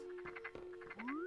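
A frog croaks in an Animal Crossing-style game, a short pulsing rattle followed by a rising chirp, close and clear with no talk.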